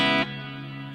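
Electric guitar played through a reverb effect at a live jam, a loud sustained chord that cuts off sharply and leaves a long reverberant tail fading under it.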